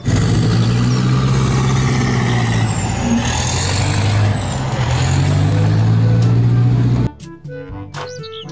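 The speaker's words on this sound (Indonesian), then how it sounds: "Mobil tank baja." A steel armored tank engine rumbles heavily and loudly with a deep, wavering drone for about seven seconds, then stops sharply as light music begins.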